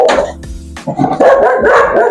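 A dog barks loudly and close by in a home workshop during a Yamaha Mio scooter brake repair, a few sharp barks running into one another over about two seconds.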